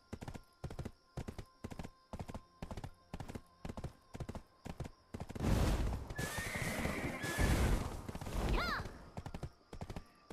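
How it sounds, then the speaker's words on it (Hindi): A horse in the video game Black Desert Online trots with brisk, evenly spaced clip-clop hoofbeats, then a loud, close whinny rises and wavers over a rushing scuffle before trailing off. "हमारा घोड़ा कहाँ पे है?"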